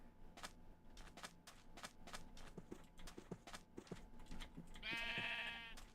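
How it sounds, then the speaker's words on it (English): Sheep in a video game give a loud, quavering bleat near the end, preceded by a run of soft clip-clop footsteps and faint background game sounds. "Ooh, we got a bunch of sheep."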